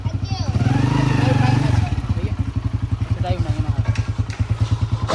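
A nearby motorcycle engine fires up with a revving surge, then settles into a steady, rapid idling putter, with a voice speaking over it.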